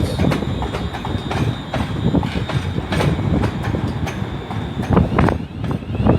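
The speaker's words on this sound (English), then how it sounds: "Coming in also is 380019, which is, I think it's coming in." A ScotRail electric train, unit 380019, rolls into Glasgow Central station with steady rhythmic wheel clatter over rail joints and brief squeals, loud and close under the station's echo.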